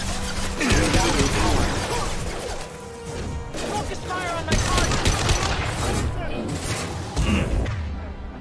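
Rapid gunfire and impacts from a battle in the video game Mass Effect 2 run continuously and loudly throughout, with crashing hits and bursts layered over the fight.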